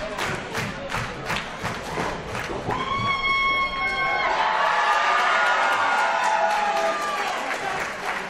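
Crowd at an independent wrestling show in Rural Valley cheering and shouting steadily, with a few sustained whistles or horn-like tones rising above the broad roar.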